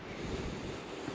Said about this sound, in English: Got a bit of a windy day up here today